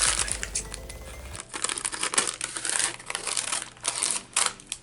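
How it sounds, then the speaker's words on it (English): Scissors cut through scraps of collage masterboard up close, producing quick, repeated crisp snips and papery rustling in an irregular rhythm, with no talking. "let's just go ahead and cut"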